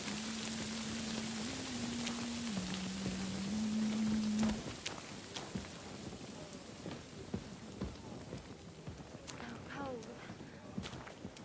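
Steady rain patters on surfaces in a video game, an even hiss throughout, with a sustained tone early on and a voice speaking over the downpour.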